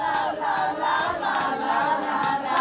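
Concert crowd singing together, a dense wash of many voices swelling in rhythmic waves, fairly loud and without any lead singer.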